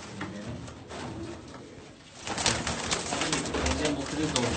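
Pigeons in a hobbyist's flock coo softly among steady background noise, with the sound growing busier and louder partway through.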